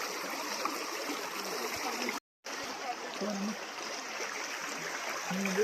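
Steady rushing of a forest stream at a waterfall flowing over rocks, continuous and fairly close, broken by a brief silent cut partway through.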